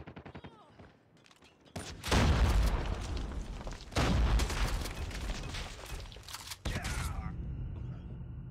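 Call of Duty Mobile match: after a brief quiet stretch, heavy booming grenade blasts and bursts of rapid gunfire fill the mix, loud and close, separated by short gaps, with game voice callouts mixed in.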